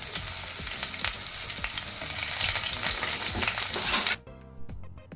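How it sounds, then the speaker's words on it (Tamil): Chopped onion sautéing in hot oil for a home lunch, a loud, steady sizzle broken by scraping stirs, cutting off abruptly near the end to a few faint clinks. "ஒரு 1/2 வெங்காயம் வந்து கட் பண்ணி வச்சுருக்கேன். அதையும் இது கூட சேர்த்துட்டு நல்லா வதக்கி விட்டுக்கலாம்."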